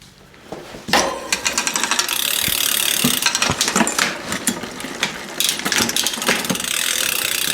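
Dry, unlubricated chain and gears of a Fuji Tahoe mountain bike turn with a loud, continuous ratcheting clatter and repeated sharp clicks, heard close and alone.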